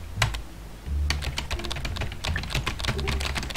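Rapid keyboard typing in the game Emily is Away: bursts of close, crisp key clicks, a brief pause, then quicker uneven clattering, with no talk.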